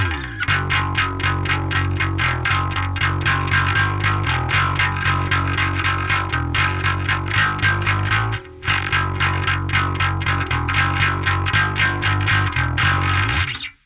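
Bass guitar through the Neural DSP Parallax X distortion plugin on its default setting, a heavily distorted, gritty metal tone in fast driving repeated notes with one brief break, loud and unaccompanied by talk.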